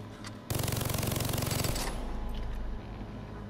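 Assault rifle in the shooter game Far Cry 3 fires a sustained rapid burst of about a second and a half, loud and close, then trails into a rumbling echo and quieter game ambience.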